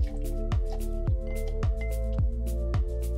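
Mint sprig and simple syrup muddled in a cocktail shaker for a gin mule, heard as a steady run of soft, wet squishing presses, about two per second, close and alone over a low hum.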